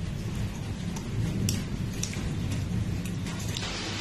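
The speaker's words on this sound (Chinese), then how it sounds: "哇，能听见这个雨声吗？" A heavy rainstorm pours down in a dense, continuous roar at night in a county town in Sichuan, loud and close, with scattered sharper drips and splashes on top and no voices.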